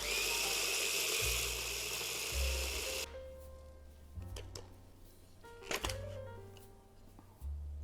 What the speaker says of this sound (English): you have to grind this a little longer than you would normally just a spice blend